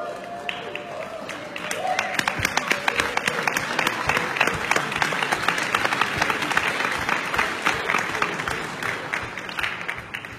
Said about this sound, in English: So I guess this was the applause for the old platform